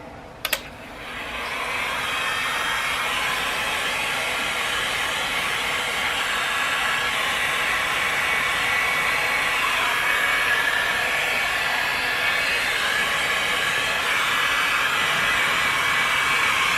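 A heat gun blows hot air on the headlight assembly of a 2015+ Dodge Challenger or Charger, a steady, loud, close whooshing hiss that starts after a brief click and runs continuously.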